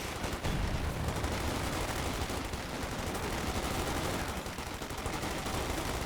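Sustained gunfire and battle noise from a Company of Heroes 2 match, including an MG34 machine gun burst, roars densely and loudly throughout with no pauses and no speech.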